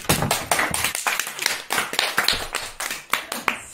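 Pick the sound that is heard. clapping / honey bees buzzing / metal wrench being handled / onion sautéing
clapping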